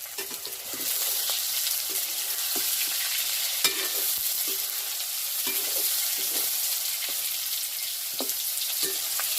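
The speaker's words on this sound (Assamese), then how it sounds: "পনীৰটো এনেকৈ অলপ অলপ ৰঙা হোৱাকৈ ভাজি ল'ব" Paneer fries in a pan until lightly browned, giving a continuous close sizzle punctuated by regular clicks and scrapes of a spatula stirring, with no voices.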